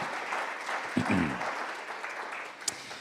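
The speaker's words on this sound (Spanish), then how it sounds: "Fuertes aplausos a Él" A church congregation applauds in a steady, even patter of clapping throughout, moderately distant, with a brief voice rising near the middle and a sharp knock toward the end.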